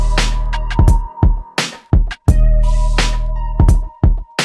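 Hard boom bap drums from an FL Studio beat, blended with roughly 30% of an over-compressed parallel copy, so the kicks and snares hit thicker and denser. The loud groove runs steadily for several bars, with no talking.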